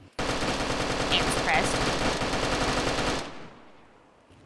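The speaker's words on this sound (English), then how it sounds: "That's a lot of gunfire." Dense, rapid automatic gunfire from a video game, loud and continuous for about three seconds, with a brief spoken remark, then fading to quiet.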